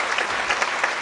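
A congregation claps during a church sermon, a brief, moderately loud burst of many hands clapping together in a hall, steady throughout with no voices over it.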